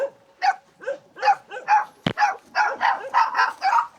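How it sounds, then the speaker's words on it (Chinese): Several puppies and dogs bark repeatedly in quick, overlapping bursts at close range in a mountain village, with one sharp click partway through. "这里好多小狗"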